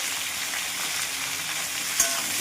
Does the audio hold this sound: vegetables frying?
yes